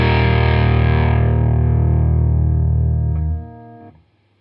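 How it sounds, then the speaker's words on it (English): An electric guitar chord rings through a Paul Cochrane Timmy overdrive with treble and bass turned down, a thick, dark, distorted sustain that fades slowly before being cut off. "if I turn the treble and the bass controls all the way down"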